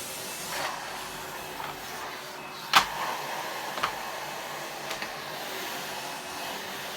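A Numatic Henry cordless vacuum cleaner runs with a steady, close airy whoosh, broken by a few brief knocks and rattles as it is moved over the floor.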